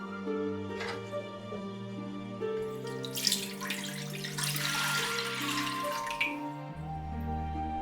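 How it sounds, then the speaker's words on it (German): Cold water pours from a tap into a pot holding pork belly, a rushing splash that swells in the middle of the clip over a bed of steady tonal background music. "Das Fleisch ins kalte Wasser geben."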